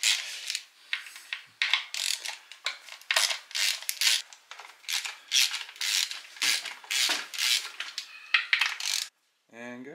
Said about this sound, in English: Bolts around the sump are all 8mm, and there's 21 of them. So I've taken all those, or loosened them all off, taken them out.